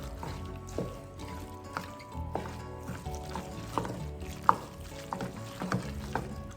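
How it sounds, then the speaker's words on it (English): Tomato sauce is mixed into food in a pan, with repeated clinks and scrapes of a utensil stirring in an uneven rhythm over a soft, wet frying sizzle. "I'm just going to give it a good mix"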